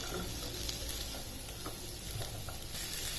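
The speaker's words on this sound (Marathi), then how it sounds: "फक्त 1-2 मिनिट याला परतवा" Chopped vegetables and tomatoes sautéing in a hot pan for a tiffin dish, a steady dense sizzle with occasional stirring scrapes, close and continuous with no talking.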